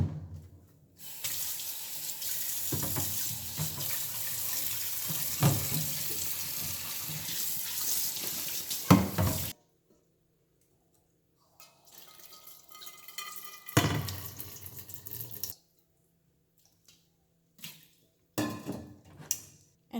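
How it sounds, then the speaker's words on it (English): Water from a kitchen tap gushing into a pot for about five liters of broth, a steady hissing splash for several seconds, then silence, followed by shorter bursts and clinks of the pot being handled. "I'm going to add 5 liters of water."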